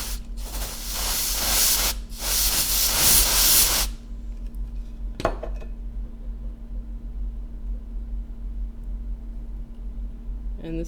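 Freeze spray hisses in two long bursts onto an iPhone 7 Plus logic board with a short on vcc_main, followed by a brief sharp puff and then a steady low electrical hum.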